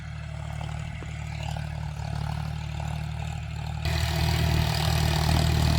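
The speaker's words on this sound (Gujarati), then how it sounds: "સામે ટ્રેક્ટર આવે છે." A 45 HP John Deere 5045D diesel tractor engine rumbles steadily nearby and grows louder and rougher toward the end as the tractor draws closer.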